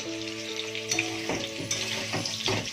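Potatoes and fish frying in oil in a kadai, a continuous sizzle with soft crackles and a few stirring scrapes, close by.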